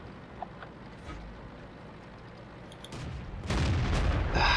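A tank gun fires in World of Tanks: after a quiet engine hum, a loud close cannon blast erupts near the end, followed by a second report and rumbling aftermath.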